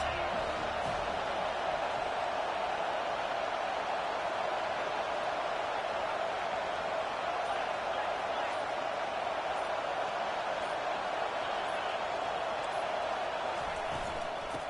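A college football stadium crowd roars steadily throughout a game featuring the Aggies, forming a dense, continuous wall of cheering with no clear breaks.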